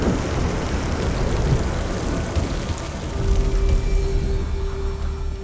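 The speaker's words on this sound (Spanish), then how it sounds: "Después de 2 horas bajo una lluvia intensa, la tormenta pasa y las nubes nos dan un descanso" Heavy rain pours steadily during an outdoor storm, a dense, continuous hiss of drops with a low rumbling undertone and a faint sustained hum joining partway through.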